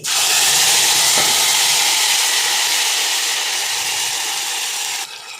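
Ground wet paste dropped into hot oil after cumin and mustard seeds are tempered, a loud, steady sizzle that holds for several seconds, then drops off at the end.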